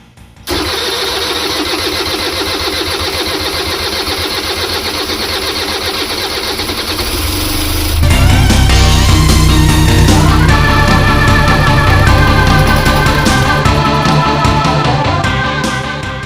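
An old Gilera motorcycle engine rescued from a scrapyard cranks, then catches around the halfway point and settles into a loud, steady running roar close by.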